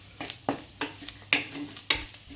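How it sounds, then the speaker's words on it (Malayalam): A spoon stirs ground spices, including cumin paste, in a pan for an anchovy gravy fry, with about six sharp scraping strokes at an uneven rhythm, close and fairly quiet. "ജീരക അരച്ച് വെച്ചിരുന്നത് പൊടിയാക്കി അരച്ച് വെച്ചിരുന്നത് 1/2 ടീസ്പൂൺ എല്ലാം കൂടെ ഇട്ട് മിക്സാക്കി കൊടുക്കുകയാണ്."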